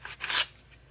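Folded 60 grit sandpaper gives one quick raspy scrape against an alternator pulley on a vintage Ford 292 Y-block air bracket, a short close rub with no talk.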